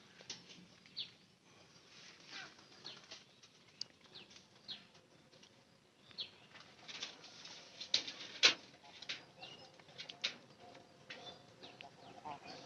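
Pigeons in a loft make faint, soft noises, with scattered low coos, light rustling and fluttering, and occasional wing flaps, all distant and quiet.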